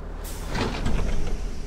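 In the horror game Hollow Cocoon, a bus comes to a stop and its doors slide open with a hissing pneumatic whoosh and rumbling low engine noise, close and fairly loud.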